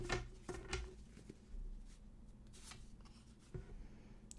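Tarot cards are shuffled and picked by hand, with soft riffling and sliding card sounds in quick bursts, faint and close, with no talking.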